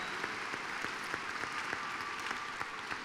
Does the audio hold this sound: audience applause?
yes